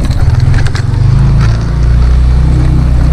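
Motorcycle engines drone loudly and continuously nearby, a steady rumble of passing traffic near Kuta with slight shifts in pitch.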